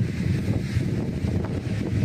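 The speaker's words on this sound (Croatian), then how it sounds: "jak je vjetar, ja ne znam kako je kod vas, ali je vjetar baš jak" Strong wind buffets the microphone outdoors, a loud, steady roar with gusty surges throughout and no voices.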